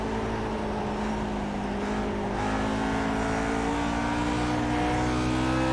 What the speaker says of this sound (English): I needed to kill some more speed off with engine braking.